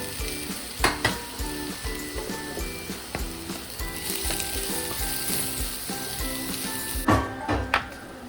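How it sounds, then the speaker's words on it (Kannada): Onion and tomato frying in oil for a fish curry, a continuous close sizzle broken by repeated knocks and scrapes of a spoon against the pan, with a louder clatter near the end. "ಇದಕ್ಕೀಗ ನೀರುಳ್ಳಿ ಮತ್ತು ಟೊಮೆಟೊ ಹಾಕ್ತಾ ಇದ್ದೇನೆ."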